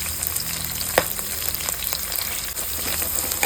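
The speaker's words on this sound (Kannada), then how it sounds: "ಅದ್ರ ಜೊತೆಗೆ ಈರುಳ್ಳಿ ಕಟ್ ಮಾಡಿರೋದನ್ನು ಹಾಕ್ಕೊಳ್ಳಿ." Chopped onions frying in a hot pan, giving a loud, dense, continuous sizzle with a few stirring clicks and no voices.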